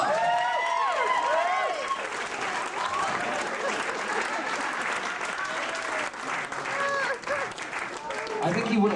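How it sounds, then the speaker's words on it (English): An audience claps steadily in sustained applause while a voice talks loudly over it, with some whoops and cheers. "make a round of applause"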